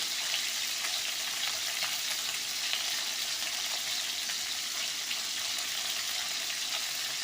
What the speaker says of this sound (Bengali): মাছগুলো ভাজা হয়ে এসছে